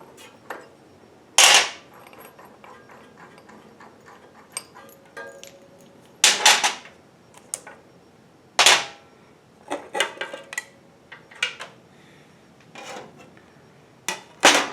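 A socket head cap screw is worked loose with an Allen wrench on an old 12-inch chop saw, giving sharp metallic clicks and clanks at irregular intervals, several louder ones standing out against a quiet background.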